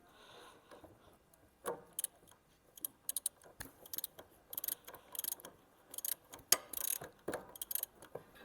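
A socket wrench ratchets on a bolt during the strip-down of a white BMW 325is, giving faint irregular clicks and metallic ticks close by.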